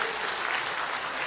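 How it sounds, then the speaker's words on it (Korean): An audience at a charity orchestra concert claps steadily, a dense, continuous wash of many hands throughout the short moment. "우리 학생들을 격려해 주시기 위해 박수 한번 부탁드리겠습니다"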